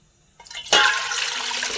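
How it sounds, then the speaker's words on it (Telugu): After a quiet moment and a soft clatter, two cups of water gush loudly into a pot on the stove and keep pouring steadily. "నీళ్ళు రెండు కప్పులు వేసుకుంటానండి"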